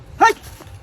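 A single short dog bark, close and sharp, over faint background noise.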